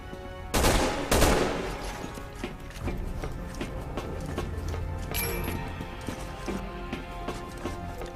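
Sniper rifle gunfire in the video game Resident Evil 6, with two loud, close shots near the start, then a steady bed of game noise, smaller impacts and music with scattered sharp hits.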